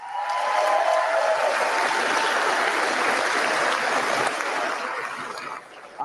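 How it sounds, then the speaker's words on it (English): Crowd at a political rally in Sault Ste. Marie breaks into loud, sustained applause that holds steady and then tapers off. "Give him a round of applause."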